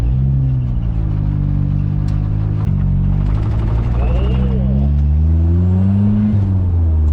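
A turbocharged Nissan D21 pickup with a 3-inch stainless exhaust rumbles and revs up and down close by, its deep exhaust note steady and loud throughout.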